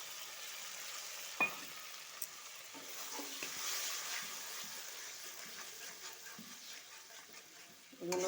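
Ground cashew, poppy seed and melon seed paste sautéed with spices in a pan, a steady low sizzle with scraping stirs and a few sharp utensil knocks, fairly close, no talk.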